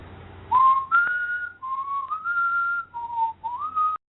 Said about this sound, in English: We don't want to hear your stupid-ass whistle.